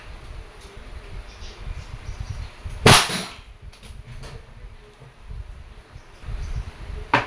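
A Crosman 1322 variable-pump air pistol fires a single match flathead pellet with one sharp, loud crack midway, set against a quiet background of faint outdoor noise and small knocks.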